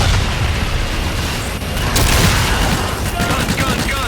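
Call of Duty Infinite Warfare gunfire, a dense loud barrage of booming shots and rumbling blasts running continuously without pause.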